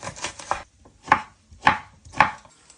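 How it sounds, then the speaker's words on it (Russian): A knife chops onion and pickles steadily on a board: a quick flurry of cuts, then three evenly spaced, crisp strikes, close and clear with no talking. "Лук и соленые огурцы тоже нарезать мелким кубиком."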